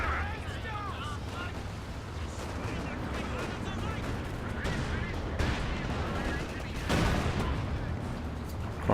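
Panther tank cannon fire in Company of Heroes 2 during a muddy 4v4 battle, with repeated loud gun blasts and artillery-like booms over a constant din of combat, with commentary talk underneath.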